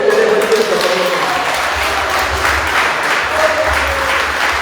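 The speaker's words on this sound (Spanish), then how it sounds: "Este aplauso." A church congregation applauds loudly and steadily, a broad wash of clapping from many hands that holds for several seconds, with a voice speaking briefly over it.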